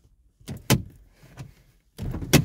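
Doors of a 2007–2011 Mazda CX-7 are shut one after another, producing several solid, close thuds with light clicks and rustles between them.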